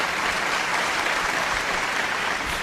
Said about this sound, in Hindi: कुछ तालियां इस ब्राह्मण के लिए भी बजा दो